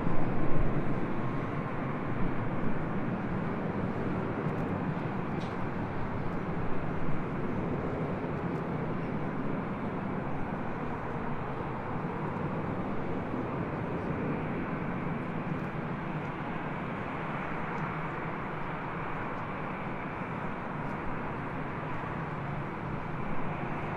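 A Southwest airliner takes off from runway 24 left, its jet engines producing a continuous broad roar at a moderate distance, steady throughout with a slightly stronger start.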